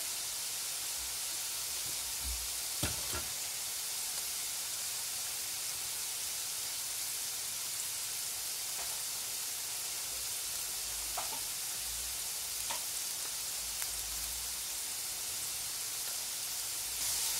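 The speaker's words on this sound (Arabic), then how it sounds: "كنسخنوا المقلاة وكنبداو بالطهي، وكنبداو كنديروا فطائر صغيره بهذا الشكل هذا." Small qatayef pancakes of batter cooking in a heated pan give a steady, soft sizzle with hissing, a faint continuous frying sound with occasional light clicks, no voices.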